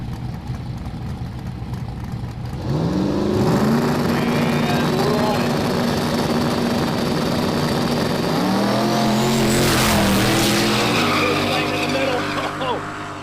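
A turbocharged 565 big block Camaro drag car at a no-prep race launches with a loud, rising engine roar and screeching tires, staying close and intense, with an announcer talking over it.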